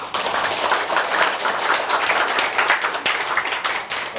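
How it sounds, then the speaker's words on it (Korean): Conference audience applauding at the opening of a Korean policy forum on Korean Peninsula geopolitics, a steady wash of many hands clapping at moderate loudness for about four seconds with no talk over it. "여러분 한번 큰 박수 한번 부탁드립니다"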